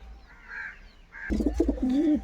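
Domestic pigeons kept in a home loft coo in soft, throaty, wavering calls, starting faint and growing louder and closer in the second half, with several overlapping coos.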